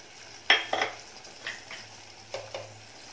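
Tamarind water sizzles as it is stirred into a fish curry in a pan, with a few sharp spoon scrapes and clinks over a soft, steady simmering hiss, with no voices.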